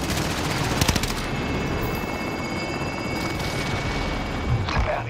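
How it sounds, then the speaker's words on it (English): Gunfire in Call of Duty: Modern Warfare, with rapid automatic bursts over a constant helicopter-like drone and a busy battlefield din. A voice speaks briefly. "What's that? Somebody shooting us?"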